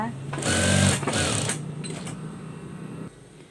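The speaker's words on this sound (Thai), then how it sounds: "เราก็มาลงมือเย็บเนาไว้ก่อนเลยนะคะ" A sewing machine basting lace onto a pair of jeans runs in a quick buzzing burst, then slows with a few short stitching spurts, close and fairly loud, with a voice over parts of it.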